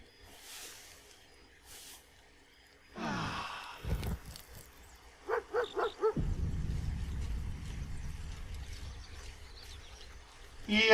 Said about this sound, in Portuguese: E olha lá, chegou o cachorrinho.